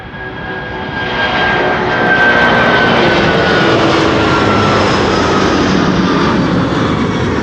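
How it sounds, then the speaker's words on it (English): A Boeing 767 jet airliner passing at Amsterdam Schiphol, a loud rising roar of engines that swells after the first second and holds steady with a faint high whine. "There it is already, the 767"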